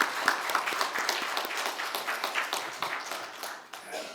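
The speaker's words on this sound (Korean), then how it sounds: "크게 영광의 박수를 돌리겠습니다." A congregation claps together at a year-end church worship service, a steady moderately loud patter of many hands filling the room before easing slightly at the end.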